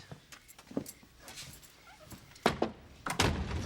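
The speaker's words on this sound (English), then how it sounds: "You didn't lock the door." A house door being locked at home, heard as a few short clunks and thuds, with two firmer knocks near the end standing out against a quiet room.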